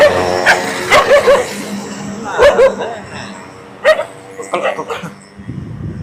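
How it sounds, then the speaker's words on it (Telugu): Several dogs bark and yelp in short bursts nearby, some close and loud, others more distant, with a voice speaking among them. "కుక్కలు కుక్కలుగా మురుగుతున్నాయి"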